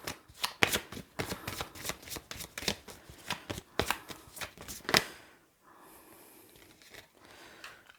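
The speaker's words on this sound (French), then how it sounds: "on va sortir une autre carte" Oracle cards are shuffled in quick, close, papery riffles that stop abruptly, followed by quieter handling as a card is drawn. No voice is heard.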